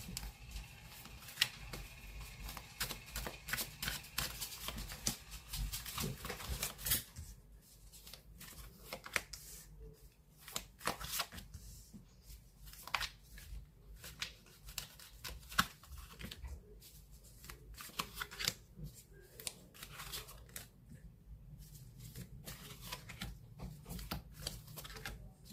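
Tarot cards being shuffled, a dense crackling riffle through the first seven seconds followed by softer scattered slaps and shuffling taps of the deck, close and fairly quiet with no talk.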